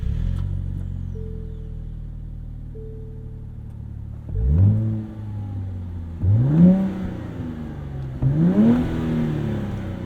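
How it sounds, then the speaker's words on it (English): A 2023 Nissan Z with a Nismo Performance exhaust idles low and steady, then gets three sharp throttle blips that rise and fall in turn, each swelling loudly before settling back to a deep, close exhaust rumble. "So on the inside, let's start this up. Listen to that exhaust"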